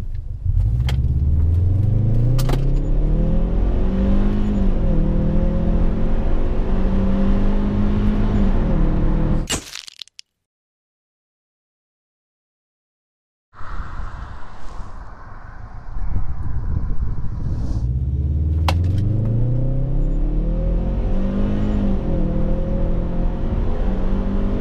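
Interior engine sound of a Subaru Forester TS accelerating hard onto a highway. The loud engine note climbs steadily through gear changes, then cuts out for a few seconds of silence before the rising drone returns, with faint wind noise.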